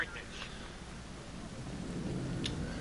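Rain falls steadily in the Cyberpunk 2077 video game with a low rumble of thunder building underneath, a continuous noisy wash that swells slightly toward the end.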